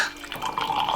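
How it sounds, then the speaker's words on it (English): Hot tea pours steadily over two tea bags in a cup, a close, continuous splashing trickle with bubbly watery texture throughout. "so let's pour some tea"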